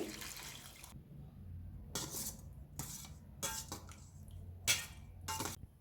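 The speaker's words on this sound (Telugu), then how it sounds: "ఇప్పుడు ఈ ఎండు చేపలు నీట్గా కడుక్కోవాలండి" Water splashes in several short bursts as dried fish is rinsed by hand in hot water, with quiet pauses and faint clinks between.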